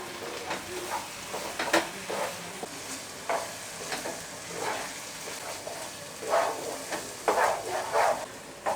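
A spoon stirs onion-tomato masala with lemon juice for butter vada pav, giving repeated scraping and clacking strokes over a low sizzle, moderately close and steady.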